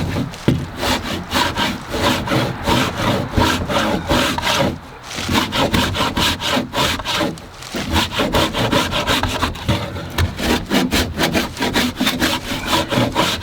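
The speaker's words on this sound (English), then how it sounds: "This is more like a rasp than a plane, but it's the same technique." A wood rasp files along a wooden edge in steady, rhythmic back-and-forth scraping strokes, close and fairly loud, with two short pauses between runs.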